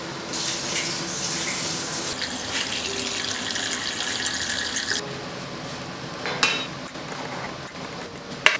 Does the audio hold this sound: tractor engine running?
no